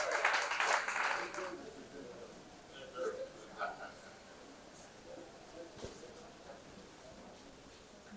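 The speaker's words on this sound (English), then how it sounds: "A round of applause for him." Audience applause welcomes a male panelist at a Catholic archdiocese family life event in Lagos, a dense burst of clapping in the opening two seconds that quickly fades into scattered claps and a murmuring room.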